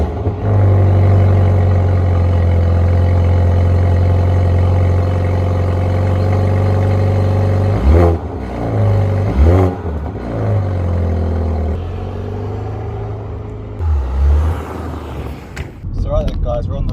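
A BMW M135i F40 pulls away, its engine droning steadily and then rising and falling through gear changes, with road rumble and a voice talking over it.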